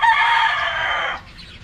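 A rooster crows once, loud and near, a single drawn-out call lasting just over a second before fading into quiet background.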